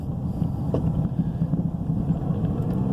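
A car driving on a road, heard from inside as a steady low engine and road rumble that continues without a break.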